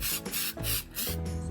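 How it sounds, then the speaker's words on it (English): Glitter spray paint hisses from an aerosol can onto a primed box in a few broad bursts with short gaps, steady and close, with no voices. "So we're spraying the glitter spray right over the primer."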